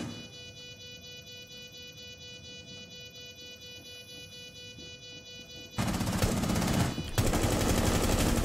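Rainbow Six Siege gunfire rattles out as sustained automatic fire, loud and close, cutting in over a steady game hum and continuing in bursts with a brief pause.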